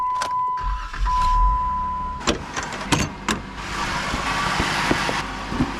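Lifted Jeep Wrangler idling as it warms up, a steady engine rumble with a brief tonal whine early on and several sharp clunks and knocks on top, close by with no talk.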